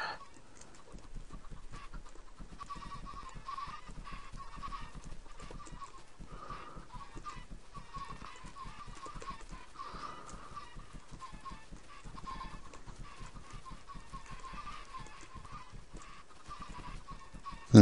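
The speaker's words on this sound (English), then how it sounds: "I'm the only person who can really get enjoyment out of watching chickens burn alive" Chickens in the Minecraft video game cluck faintly while they burn, a repeated thin squawking over a low, steady crackle.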